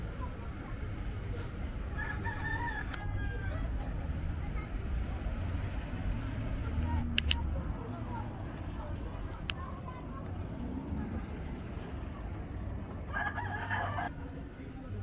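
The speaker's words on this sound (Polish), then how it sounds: "Te koguty nie są do jedzenia." Roosters kept for cockfighting crow in an outdoor town setting, a few calls rising over a steady background of traffic and street noise, with people talking nearby.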